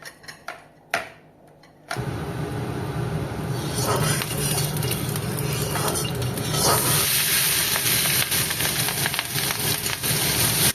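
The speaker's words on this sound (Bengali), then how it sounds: "পেঁয়াজ কলিটা ভাজা বসিয়েছি" After a couple of brief knocks, onion stalks go into a hot pan and a steady sizzle starts, growing louder and brighter as it continues without any speech.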